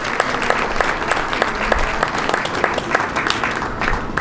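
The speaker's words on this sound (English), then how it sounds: "Give her a big round of applause, ladies and gentlemen" Audience at an outdoor Juneteenth jazz heritage festival gives a steady round of applause, dense continuous clapping at moderate distance with a faint crowd murmur.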